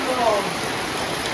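Rain pours down in a steady, loud, even hiss of drops striking surfaces, with no pauses or gaps.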